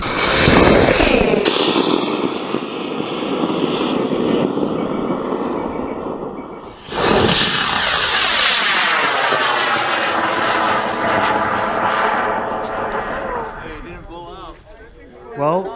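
A four-inch sugar rocket launches off its rail with a loud whooshing roar. The roar cuts off abruptly, then another rushing burst follows that fades and sweeps away into the distance, while people talk nearby.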